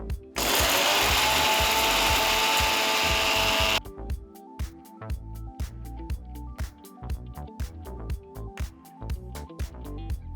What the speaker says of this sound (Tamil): மசாலா பொருட்கள் ஆறுனதும் மிக்சர் ஜாரில் போட்டு ஃபைன் பவுடரை அரைங்க